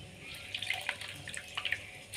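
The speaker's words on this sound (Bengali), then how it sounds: "এবার ছাতুটাকে জল নিচুড়ে নিচুড়ে তুলে নিব আমরা" Water drips and splashes as soaked mushrooms are squeezed out by hand, a run of soft, irregular trickles and drops, close and fairly quiet.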